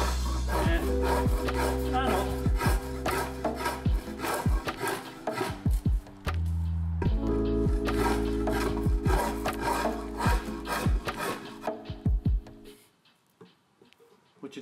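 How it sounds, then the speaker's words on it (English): A spokeshave shaves a replacement frame on an 81-year-old 40-foot wooden boat under restoration, making close, rhythmic rasping strokes that pause briefly around the middle and fade out near the end. "using a spoke shave on the replacement frame"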